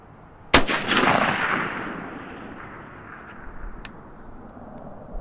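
A single rifle shot on a range while testing a Tract Toric 1-8x24 LPVO scope, a sharp loud crack followed by a long rolling echo that fades, with a faint second report later.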